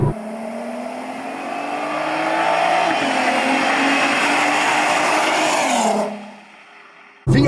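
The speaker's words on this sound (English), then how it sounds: "This car actually also has a header on it, so it's a lot louder than it would be stock." A 2008 Volkswagen R32 VR6 engine with headers revs hard and holds at high revs with a loud, raspy exhaust note, then drops back to idle before cutting off abruptly.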